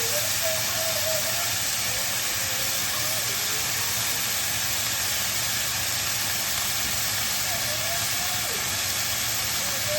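Beef for shaking beef searing in a hot pan, a loud, steady, dense sizzle and hiss that holds without a break throughout.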